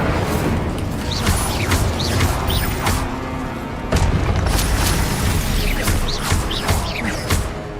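Confringo and Incendio spell blasts in Hogwarts Legacy produce a loud, dense run of booming magical impacts and crashes, repeating in rapid succession over a continuous roar of game effects.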